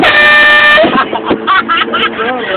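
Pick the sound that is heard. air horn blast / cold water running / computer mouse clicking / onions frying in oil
air horn blast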